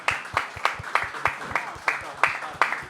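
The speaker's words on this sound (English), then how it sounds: "Please, big applause for him." Conference audience clapping in a light, regular rhythm of distinct claps at a crypto event in Cannes, with a voice speaking over it.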